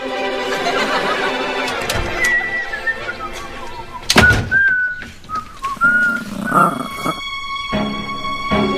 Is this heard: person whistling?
yes